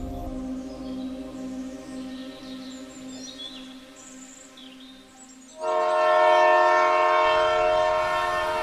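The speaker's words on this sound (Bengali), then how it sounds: "ট্রেন চলছে।" A train sound effect for a Bengali detective audio drama: a steady running rumble with sustained horn-like tones that swell louder partway through and continue to the end.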